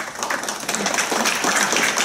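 A charrette team applauds during a presentation, a short burst of dense, fairly close clapping that builds slightly and holds steady.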